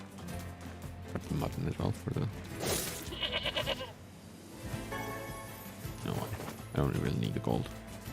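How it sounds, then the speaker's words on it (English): Sheep bleat and cry out as they are attacked in the video game Nier Replicant. Several short, nasal game animal calls come through clearly, mixed with combat effects, while a player talks over the action. "Kill some more sheep while I'm at it."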